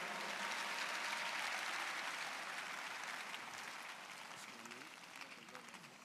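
Dense, sustained applause from a large church congregation at a service, a broad wash of many hands that swells loudly and then slowly tapers, with a voice faintly audible beneath.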